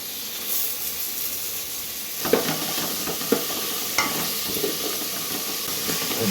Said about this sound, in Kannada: ಇವಾಗ ಟೊಮೊಟೊ ಹಾಕ್ತಾಯಿದ್ದೀನಿ